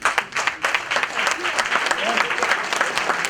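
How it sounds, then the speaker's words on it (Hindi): Audience applause at a Women's Day prize-draw event, a dense patter of many hands clapping steadily for about three seconds, with faint voices mixed underneath. "जोरदार तालियां।"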